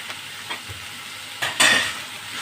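Green peas sizzling with green chili and cumin in a frying pan, with soft stirring scrapes, then a louder burst of frying hiss that fades, close by and without talk.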